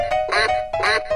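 Two loud, close duck quacks, each a short nasal honk, separated by a brief pause, with nothing else around them.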